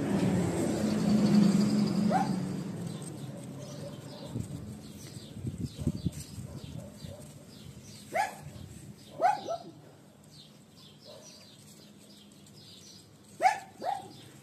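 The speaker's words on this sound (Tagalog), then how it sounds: "Pasensya na sa background na aso." A pet dog barks in the background of a garden near a road in Hungary, sharp single and double barks spaced out over a low hum, with a dove cooing faintly early on.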